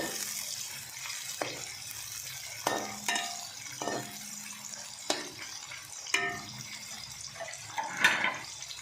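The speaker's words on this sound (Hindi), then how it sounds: "अब इसमें प्याज डाल देंगे और इसे गोल्डन होने तक फ्राई करेंगे।" Chopped onions frying in hot oil in a pan for a green chickpea pulao, with steady sizzling broken by repeated stirring scrapes and clanks, close and with no talking.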